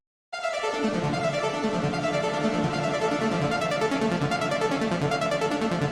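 Hardstyle synth pad drenched in Valhalla Room reverb, a dense sustained wash of chord tones with a shimmering tail that swells in and holds steadily, loud and alone.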